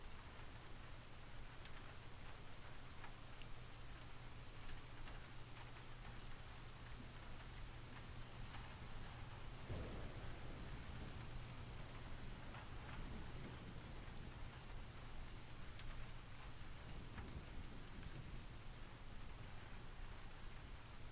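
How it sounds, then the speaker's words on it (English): Recorded rain and rolling thunder from an ambient rain website, a steady dense patter of raindrops throughout with a low continuous rumble and a soft thunder swell near the middle, no voices. "This is a site called rainymood.com to enhance the mood."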